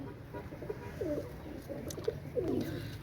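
A pair of Pakistani pigeons coo softly, with a few faint rolling coos spaced through the moment over a low, steady background hum.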